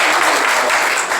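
Audience applause at a women's network conference session, a steady dense wash of clapping from a crowd, continuous and moderately loud throughout the short burst.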